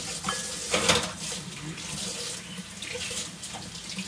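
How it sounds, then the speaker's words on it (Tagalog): Tap water runs steadily into a sink while vegetables, including string beans, are rinsed by hand, with a continuous splashing hiss and occasional louder sloshes, close by and alone. "Hugasan lang ganyan."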